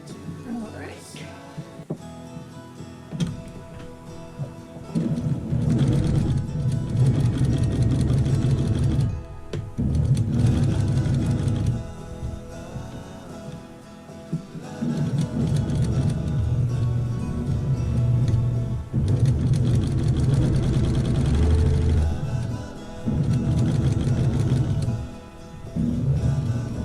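A sewing machine stitches quilt blocks together in long, loud runs of steady mechanical whirring, broken by short pauses, with a voice faintly heard at the start.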